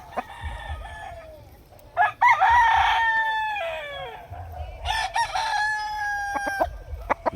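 A large three-year-old rooster crows loudly nearby in a backyard farm, two long drawn-out calls with a pause between them, followed by a few short clucks.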